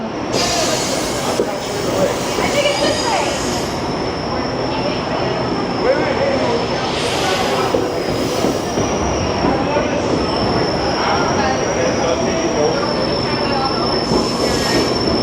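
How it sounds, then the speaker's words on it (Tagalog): A train in Toronto pulls away with a loud, continuous rolling rumble of wheels on rails and high metallic wheel squeals rising and fading, heard close and steady for a long stretch. "Alis na yung train. Gumugulong-gulong na."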